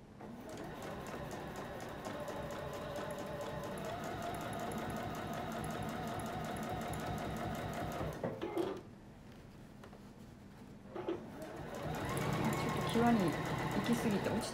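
A sewing machine stitches a zipper pocket on a sacoche, its steady mechanical whir running for about eight seconds, pausing briefly, then resuming with a louder burst.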